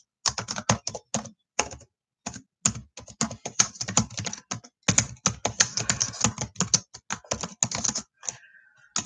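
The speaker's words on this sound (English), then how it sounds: "I'm just going to type a little post here" Typing on a computer keyboard: close, rapid bursts of clacking keystrokes separated by short pauses, loud and without any talk over it.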